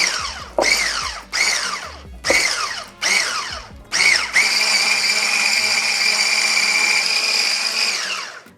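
Two sticks of butter are whisked in a large bowl with an electric mixer, which whirs in five short bursts before running continuously, loud and close, its motor pitch rising and falling under load.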